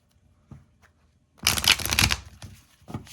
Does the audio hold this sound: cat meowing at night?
no